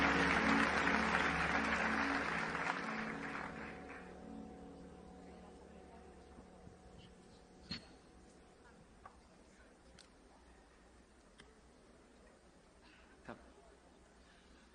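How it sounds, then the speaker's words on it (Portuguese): A church congregation applauding to welcome a pastor at a night vigil, a dense burst of clapping at first that gradually thins and fades, leaving a quiet room with scattered clicks and knocks. "Vamos recebê-lo com um aplauso"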